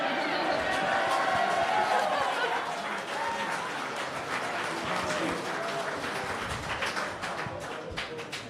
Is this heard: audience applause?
yes